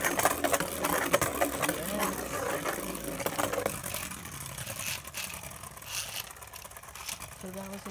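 Beyblade spinning top whirring in turbo mode, a dense buzzing rattle that stays loud for the first few seconds and then fades into a softer spinning hum.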